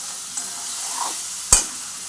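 Water poured into a hot pan for a singi and magur fish curry, a sharp hissing sizzle that bursts up suddenly near the end over a low steady frying crackle, close and loud.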